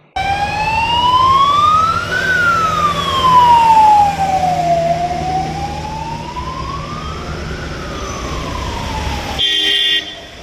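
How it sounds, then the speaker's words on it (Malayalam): Ambulance sirens wail loudly in slow rising and falling sweeps as a convoy of ten ambulances carrying bodies sets off together toward Wayanad from Nilambur, with road traffic rumbling beneath before the sound cuts off abruptly. "മൃതദേഹങ്ങളുള്ള പത്ത് ആംബുലൻസുകൾ ഒന്നിച്ചാണ് വയനാട്ടിലേക്ക് തിരിച്ചത്"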